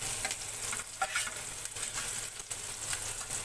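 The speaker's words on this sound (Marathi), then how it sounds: "कांद्याला चांगलं जरा थोडं परतून घ्यायचं, गुलाबी कलर येतोवर." Chopped onion sizzles and crackles steadily in a hot pan while being stirred, cooking until pink for a spicy jackfruit-seed vegetable dish, with continuous frying noise and no talk.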